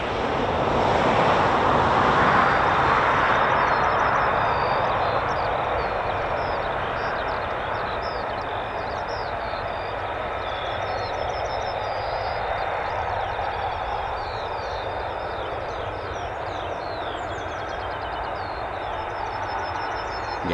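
Distant F-35B stealth jets, more than one aircraft, at an RAF base, heard as a broad sustained engine roar that swells early and then settles into a steady rumble.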